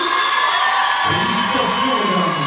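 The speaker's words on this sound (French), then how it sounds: "encore un tonnerre d'applaudissements pour Miss Lance 2024" Audience at the Miss Lens 2024 pageant in Lens cheering and applauding, a dense steady roar of crowd noise with whoops, a swell of louder cheering joining after the first second and holding to the end.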